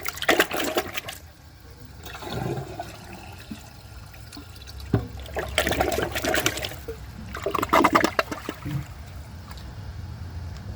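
A Toto Drake toilet flushes with a rushing gurgle of water, surging and subsiding in a few waves over about ten seconds, close and fairly loud.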